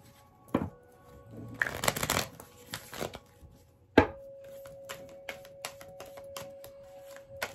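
Tarot deck being shuffled by hand: several sharp card riffles and slaps, a dense flurry early on, then a steady run of crisp taps as cards are cut and squared, close-up and with no voices.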